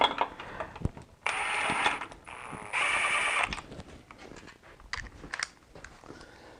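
Bolts being threaded by hand into the tensioner of a BMW E46 M54 engine: close metallic scraping and ratcheting bursts, two sustained gritty stretches among scattered clicks and taps, with no voice.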